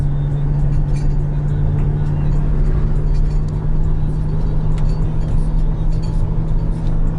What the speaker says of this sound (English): I'm driving first time on this car.